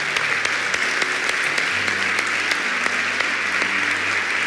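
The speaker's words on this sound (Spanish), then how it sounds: "Vamos a aplaudir bien al Señor" Congregation applauding in a Spanish-language church service, a sustained, even roar of many hands that fills the space, with faint sharper claps ticking through it and a low hum beneath.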